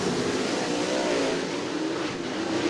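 Late model race cars roaring around Cottage Grove Speedway during a heat race, a dense, steady engine drone from a pack of cars heard at a distance, with pitch rising and falling as they circle the track.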